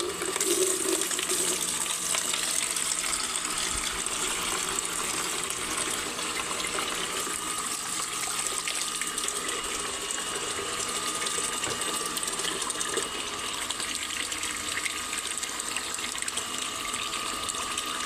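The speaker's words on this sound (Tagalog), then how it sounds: "Kuha tayo ng tubig, guys, para diligay ang ating tanim" Water runs steadily from a tap to water garden plants, a continuous hissing gush that stays close and even for the whole stretch with no talking over it.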